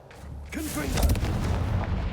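Confringo fire spell cast in the Hogwarts Legacy video game, a booming blast hitting about halfway through, followed by sustained rumbling low-end crackle with game music underneath.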